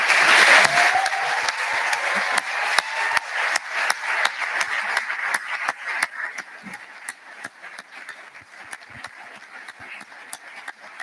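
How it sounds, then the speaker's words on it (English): A crowd applauds graduates of a Bachelor of Science in Furniture and Wood Technology at a conferring ceremony, a loud burst of clapping that thins into scattered individual claps and gradually fades over about ten seconds. "please stand for a well-deserved round of applause"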